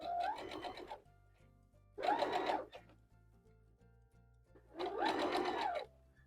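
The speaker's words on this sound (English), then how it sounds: "Now we're just going to sew a scant 1/4 inch all the way down there." A sewing machine runs a scant quarter-inch seam along a quilt block in three separate bursts of steady, close stitching, with brief quiet pauses between runs.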